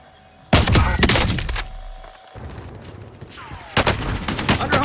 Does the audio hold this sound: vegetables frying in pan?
no